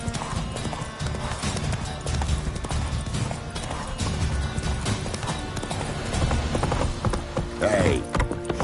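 Roach, a horse in The Witcher 3 video game, trotting with steady rhythmic clip-clop hooves, close and continuous, under rumbling ambient game sound and a brief creak near the end.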